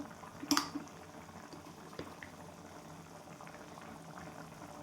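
Mung dal amti simmering in a pot in a home kitchen, a steady soft bubbling hiss throughout with a brief louder splash or clatter near the start and no talking.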